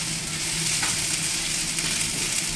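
Canned tuna dry-frying in a pan, giving off a steady, dense sizzle that runs unbroken and fairly loud throughout, with no voices.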